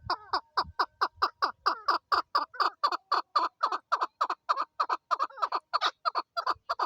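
Chakor partridges, male and female, calling in Swat, Pakistan: a rapid run of repeated sharp, nasal chuckling notes in steady rhythm, fairly near, with faint background thumps.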